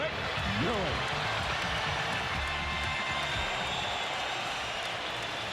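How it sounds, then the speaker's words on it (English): A packed arena crowd at Madison Square Garden roars steadily for the New York Knicks against the Miami Heat in a 2000 playoff game, a dense, loud wall of cheering beneath an announcer's voice. "The crowd fired up here at the Garden"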